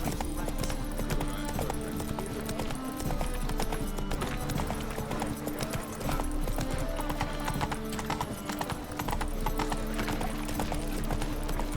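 Horse hooves clip-clopping in a steady, rapid rhythm in the video game The Witcher 3, loud and continuous, with a brief neigh and some in-game dialogue underneath.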